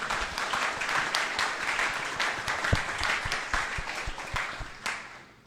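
A congregation claps together during a church service, a dense burst of applause that swells and settles with scattered sharper claps before trailing off toward the end.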